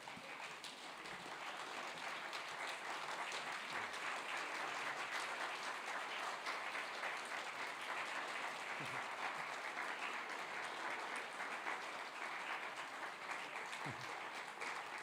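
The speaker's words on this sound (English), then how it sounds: "So I'd ask you all to give them all a standing ovation." A conference audience gives the staff a standing ovation, a sustained, even burst of many hands clapping that fills the room for the whole stretch without letting up.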